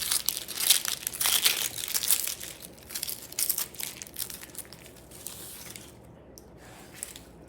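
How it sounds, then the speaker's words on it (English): Onion papery outer skin being peeled away by hand after a knife score in a home kitchen, giving close crinkly crackling and tearing bursts that fade to quieter rustles near the end. "Then I take my knife and kind of groove it down this way. And then that lets me peel off that additional, that top layer."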